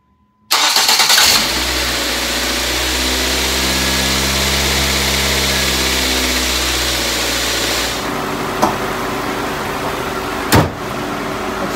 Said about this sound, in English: All right, let's give her a start.